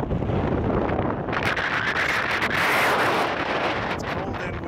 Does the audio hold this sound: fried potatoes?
no